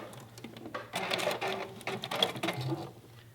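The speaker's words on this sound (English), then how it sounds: "let's go ahead and stitch this scant 1/4 inch seam first" A sewing machine runs a scant quarter-inch seam, with a steady mechanical whir and rapid stitching rhythm that starts after a brief pause and continues close up and clear, with no talking.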